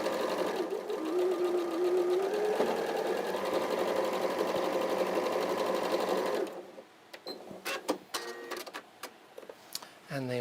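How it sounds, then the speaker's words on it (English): A sewing machine stitches a quilt block in a steady, fast mechanical whir for several seconds, then stops, followed by scattered clicks and handling noises of fabric and machine. "I'm stitching down the middle of that."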